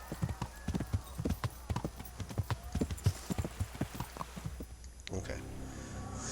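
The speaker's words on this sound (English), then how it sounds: "the horse will kind of, I think it's like a gallop to a sprint or something like that." Horse hooves clip-clopping in Kingdom Come: Deliverance, a quick, even run of close hoofbeats that stops abruptly near the end.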